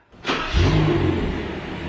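A BMW 7 Series engine is started by remote key, turning over and catching quickly before settling into a steady, close idle hum for the remaining moments.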